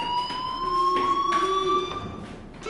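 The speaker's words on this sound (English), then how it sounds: "Hey, do you hear that fire alarm?" A fire alarm rings in the video game Life is Strange: a loud, steady electronic tone with bright overtones holds throughout, close and unbroken, with no talking.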